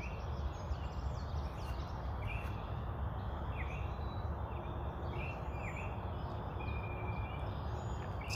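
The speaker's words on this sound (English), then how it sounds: "Still hear that Baltimore Oriole" A Baltimore Oriole sings short whistled phrases several times over steady outdoor background noise, with other birds and insects faint in the distance.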